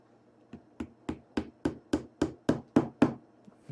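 A wooden peg is driven into a Shaker box with about ten evenly spaced hammer blows, each a close, sharp wooden knock that rises in pitch and loudness as the peg seats, with no talking.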